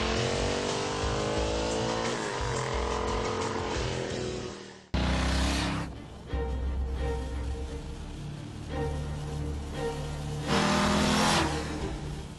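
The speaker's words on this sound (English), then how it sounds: "continued to ride the fantastic Italian mountain roads on one of the most unique and exotic motorcycles" A Bimota DB5 motorcycle engine revs and accelerates hard on mountain roads in northern Italy, pitch climbing through gear changes, loud and close with wind rushing past; no talking.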